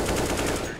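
Rapid automatic gunfire in the video game Counter-Strike: Global Offensive rattles out in a fast, even burst, loud and close, with no speech over it.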